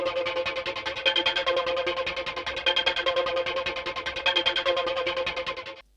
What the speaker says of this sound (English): I put in this Echo Melt plugin.